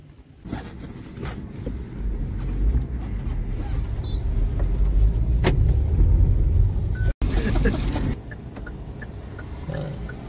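A car driving on the road from Kharagpur toward Dublaguri beach, a steady close interior engine and tyre rumble that swells and then eases, with a brief dropout and a person talking faintly under the drone.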